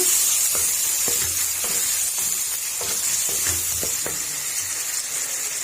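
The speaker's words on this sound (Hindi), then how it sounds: "इस तरह से हमने आलू ऐड कर दिए, इसको भी हमने अच्छी तरह से भूनना।" Potatoes fry in a pan of spiced masala, a steady close hiss and sizzle broken by soft irregular scrapes and taps of stirring, with no voices.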